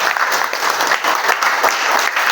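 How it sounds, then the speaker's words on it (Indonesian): Loud, sustained applause from a classroom audience of students and teachers, filling the room steadily for a couple of seconds with no speech over it. "Kasih aplaus yang meriah untuk ketiga kelompok"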